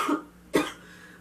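Two short, close coughs, the second sharper and louder, with a brief pause between them and quiet afterward.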